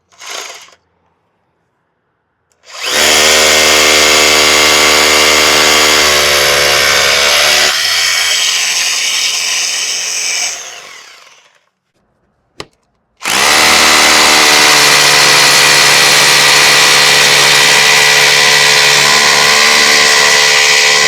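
A Bosch Bulldog Xtreme rotary hammer drill drills into concrete in two loud, close bursts: a long run that changes pitch partway and fades out, a brief gap with a short blip, then a second sustained run.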